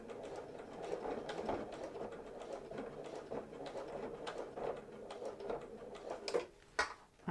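A sewing machine runs in a steady, continuous whir with dense ticking, stitching a fabric hanging storage pocket, then pauses with a couple of sharp clicks near the end; no talking.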